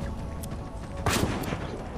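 Gunfire in Fortnite Chapter 5, a single sharp burst around the middle over a steady busy game background, with no talk.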